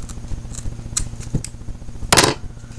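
Scissors snip kiptail hair near the tip for fly tying, with a few small dry clicks and one sharper, louder cut near the end over a low steady background hum.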